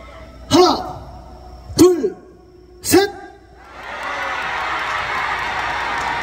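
A concert audience at a trot singer's guest performance answers a call, first three short shouted bursts, then a broad sustained roar of cheering that swells and holds, with voices mixed in.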